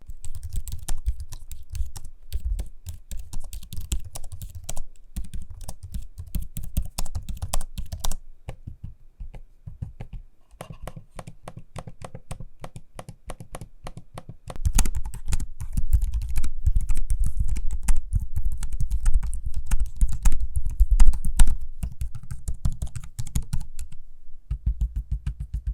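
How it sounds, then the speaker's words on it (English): Fingers typing on Lenovo Legion 9i and Asus ROG Strix Scar 17 gaming laptop keyboards and trackpads, a close, steady stream of rapid clicky keystrokes with brief pauses, one stretch noticeably louder and thuddier than the other. "Here's a quick sample of me using both keyboards and trackpads so you can hear what they sound like."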